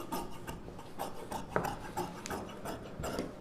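Scissors cutting pieces of blouse fabric for a lining-pattern blouse, a series of quiet close snips and rasping fabric rubs in an irregular rhythm, with no talking.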